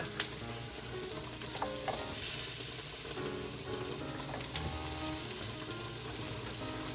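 Peppers sizzle and fry in a pan for a homemade marinara sauce, a quiet, steady crackling hiss with scattered clinks and scrapes of stirring throughout.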